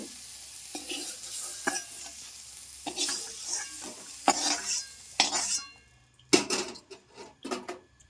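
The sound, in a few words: eggplant frying in a little oil in a pan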